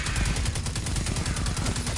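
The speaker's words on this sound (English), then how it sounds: "I'm just gonna have to do this with my machine gun, I think" Sustained automatic machine gun fire in Destiny 2, a fast, loud, steady stream of shots packed closely together and running unbroken for the whole stretch.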